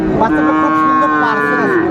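A single young Friesian or crossbred bull calf lets out a long, loud, drawn-out moo close by at a cattle market in Dinajpur, with little else audible around it.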